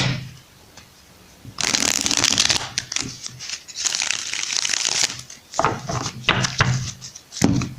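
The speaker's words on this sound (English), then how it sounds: "let's shuffle this 2 more times." Crisp, rapid riffling of a tarot deck being shuffled, in several bursts with brief pauses between, close by and fairly loud.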